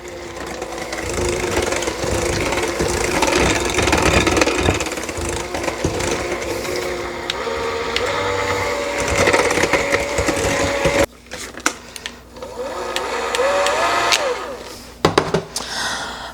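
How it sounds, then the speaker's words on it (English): Electric mixer on low speed beating chocolate chip cookie dough, a steady continuous whirring drone that breaks off briefly near the end, then resumes with uneven bursts, close and fairly loud with no talking. "we're going to continue mixing on low for now."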